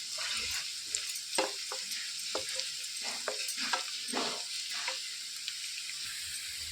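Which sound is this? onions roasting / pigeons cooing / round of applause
onions roasting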